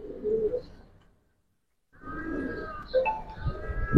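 Giribaz and Khaki pigeons coo in a loft, with soft throaty calls near the start, a brief silent gap, then more overlapping cooing and light rustling.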